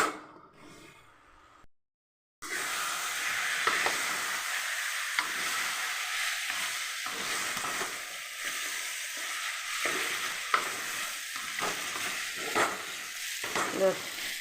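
Eggplant sizzles in hot oil in a pan, with steady close frying noise and intermittent scraping stirs; a brief silent gap near the start before the sizzle resumes loudly.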